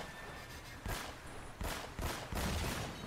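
Gunfire in the Uncharted: Drake's Fortune video game, several bursts of shots in quick succession over a steady background hum, fairly close and moderately loud, with no speech over them.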